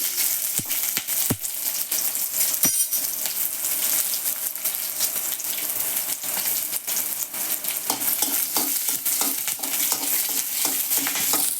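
Green chillies and peanuts roasting in oil in a pan for a spicy chilli thecha, a continuous close sizzle with frequent sharp scrapes and clacks of stirring.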